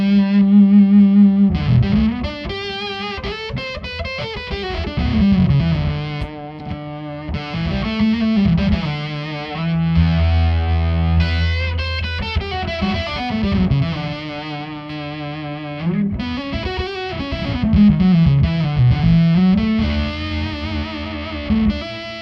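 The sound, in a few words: electric guitar through Myriad Fuzz distortion pedal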